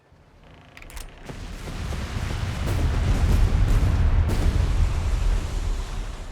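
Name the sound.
naval ship bombardment in video game Company of Heroes 3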